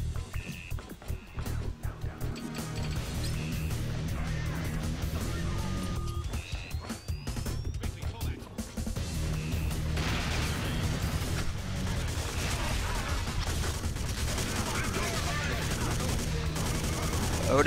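Shotgun blasts and gunfire in the sci-fi first-person shooter Alpha Prime, dense and continuous across the clip amid game effects and background score, with no spoken voice.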